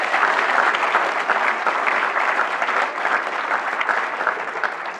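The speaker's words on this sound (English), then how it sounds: "So give yourselves a big round of applause." A large reunion crowd of alumni at Yale SOM applauds in a steady, dense wash of clapping that holds evenly throughout without any talk.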